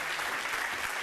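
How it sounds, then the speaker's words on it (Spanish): Steady applause from an audience at an education event, dense and even clapping filling the whole moment without a break. "Un fuerte aplauso para él"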